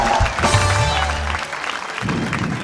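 A comedy show audience breaks into applause, a dense, steady wash of clapping that fills the whole stretch with no voice over it.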